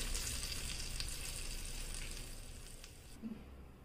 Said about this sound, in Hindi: उसे अच्छे से मिक्स करके मैं वो तड़का इसके ऊपर डाल दूंगी।